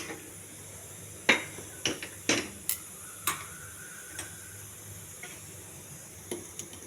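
Curry leaves tempering in a little oil on a pan for tomato putnala chutney, giving a faint, low sizzle broken by a handful of sharp spatula taps and clicks.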